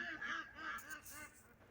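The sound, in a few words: geese honking in a yard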